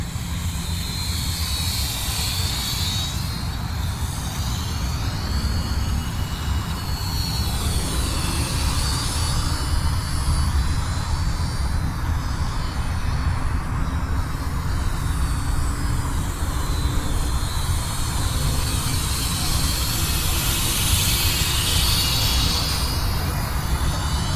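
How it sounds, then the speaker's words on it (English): A steady, close motor whine with a gritty mechanical drone from a Flyzone Fokker Dr1 RC model plane's noisy motor and gearbox, running continuously without a break. "this gearbox is noisy."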